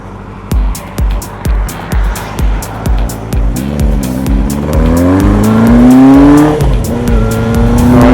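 A motorbike engine idles with a rhythmic pulsing putter, then revs up in a rising whine that holds loud and close.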